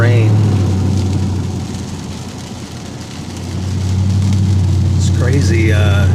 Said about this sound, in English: I'm driving in my GMC Sierra with an exhaust that's half gone in the rain.